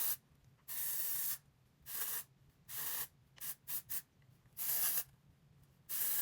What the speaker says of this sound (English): grab your favorite texture spray. Mine is the Amika Undone.